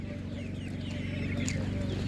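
Broiler chickens cluck steadily at a livestock market, a dense, close flock of overlapping clucks and soft calls with a faint higher squawk, heard alone without talk.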